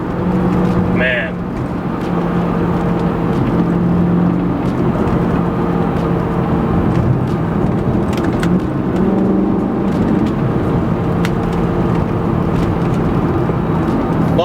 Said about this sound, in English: That intake is loud.